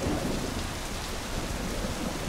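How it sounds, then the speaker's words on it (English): Steady heavy rain with a low rumble of thunder in the driving game My Summer Car, a dense continuous wash of downpour with no talking. "So it's still raining outside, of course"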